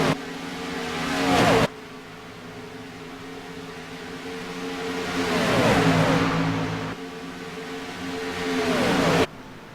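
Stock cars roar past on an oval track during an Xfinity-series race, engine noise swelling and fading in repeated loud passes with sharp cutoffs between them.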